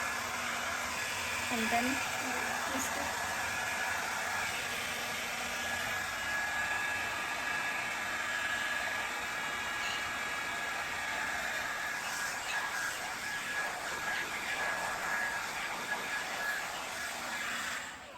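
Havells Air Care Styler HC4085 hot air brush blowing during hair straightening, a steady close whooshing airflow hum with a faint whine that runs throughout, with brief talk near the start.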